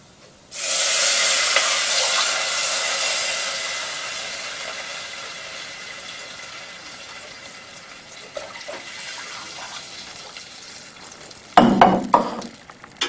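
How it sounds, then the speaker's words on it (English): Water poured into a hot pan of fried spices for jeera rice hits with a loud, sudden hiss and sizzle that slowly fades into a softer simmer, followed near the end by a clatter of utensils, with no speech. "So we are going to add water now."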